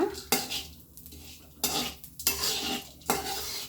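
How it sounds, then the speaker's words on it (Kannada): Chana dal dry-fried in a pan on medium flame, heard as several sharp scraping and clattering strokes of a utensil against the pan, with a faint rustle of lentils between them. "ಇದಕ್ಕೆ ಕಡಲೆಬೇಳೆ ಹಾಕ್ಕೊಂಡು ಚೆನ್ನಾಗಿ ಫ್ರೈ ಮಾಡ್ಕೊಳ್ಳೋಣ ಸೊ ಒಂದು ಮೀಡಿಯಮ್ ಫ್ಲೇಮಲ್ಲೇ ನೀವು ಒಂದೊಂದಾಗಿ ಹುರ್ಕೊಳ್ಳೋಣ"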